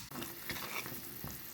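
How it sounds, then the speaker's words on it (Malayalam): Fish curry gravy bubbling in a pot on a home stove for lunch, a close, steady sizzling simmer with faint stirring clicks through a short stretch. "നമ്മളെ ഗ്രേവി നന്നായി തിളച്ച് വന്നിട്ടുണ്ട്"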